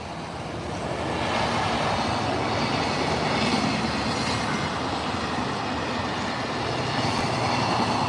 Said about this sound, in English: Here comes another train. Is this a freight train